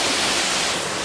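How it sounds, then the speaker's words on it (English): A waterfall roars from up close beside rocks, a dense, steady broadband rush of falling water with no voices. "So here we are underneath the waterfall."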